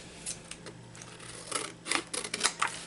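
Scissors cutting through a thick file folder for a journal collage page, a run of close, crisp snips that speed up toward the end, no talking.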